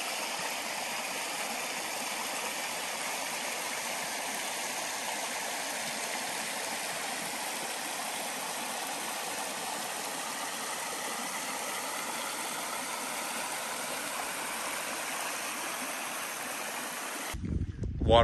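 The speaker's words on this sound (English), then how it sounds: "There's a creek down here. Yep. I'm going to put a little video here of the creek." A creek on rural wooded land in Kentucky, flowing with a steady broadband rush of water that stays even and close throughout, ending in a brief handling noise.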